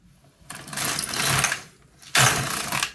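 A home knitting machine knitting a panel for a May Day bag: two bursts of rapid mechanical clatter as the carriage sweeps across, separated by brief quiet, close and fairly loud with no voices.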